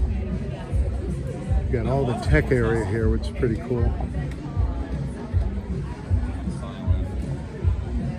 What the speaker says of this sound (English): Crowd's filling up.